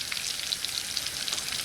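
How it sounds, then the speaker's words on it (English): Food sizzles in a heavy-duty Stanley stainless steel fry pan with a thick bottom. A soft, steady hiss is dotted with quick crackles and spits, fairly quiet and close, with no talking. "these guys are frying up nicely in this Stanley Fry"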